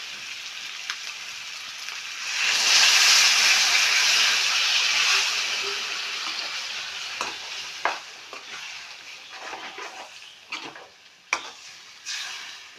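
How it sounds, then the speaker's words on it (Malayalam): Egg and potato curry stirred in a pan, a steady close sizzle swelling for a few seconds, then easing into scattered spoon scrapes and clicks with no voices. "അതുപോലെ മുട്ട. നമ്മളൊന്ന് ഇളക്കി കൊടുക്കാം."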